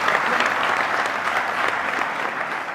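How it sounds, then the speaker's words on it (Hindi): An audience bursts into loud, sustained clapping to welcome a guest at a gathering, a dense steady applause that carries on throughout without a break. "एक बार जोरदार तालियां"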